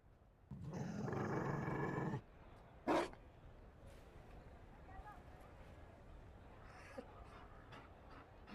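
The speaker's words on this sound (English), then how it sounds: "You found a dog?" A Mabari war dog in a video game pants and growls in a short, loud burst near the start, followed by a brief sharp sound and then a quieter stretch of ambience.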